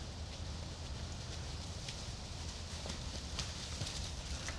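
A herd of goats runs outdoors on a homestead in cold weather, a faint continuous patter of hooves with scattered clicks under steady background noise.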